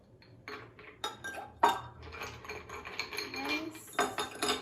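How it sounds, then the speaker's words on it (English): Ice cubes clink and rattle into a glass of limeade in a series of sharp, close knocks and chinks, irregular and bright. "I'm just gonna top it off with some ice."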